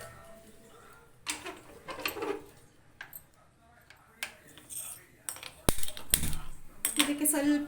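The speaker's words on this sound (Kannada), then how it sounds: "ನೋಡಿ, ನಾನು ಸ್ಟವ್ ಮೇಲೆ ಇಡ್ತಿದ್ದೀನಿ" A cooking pot set down onto a stove while making jaggery rice payasa, giving sharp metallic clanks and scrapes among scattered quieter kitchen clatter, with someone speaking at times.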